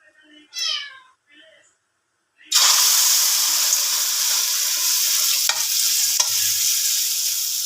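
A loud, close sizzle bursts in as eggplant (talong) goes into a hot pan and holds steady, with a couple of faint clicks. Before it starts, a voice talks briefly.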